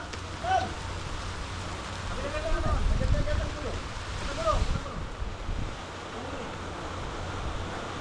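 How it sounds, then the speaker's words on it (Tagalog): Heavy rain pours steadily on a farm where a large tarp has been laid out, a dense continuous hiss with gusts of wind, while people talk intermittently over it. "Lumakas ang ulan."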